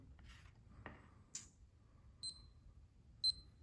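Two short, high electronic beeps from an intervalometer counting down, about a second apart, faint and close, following a few soft clicks and handling noises in a quiet room.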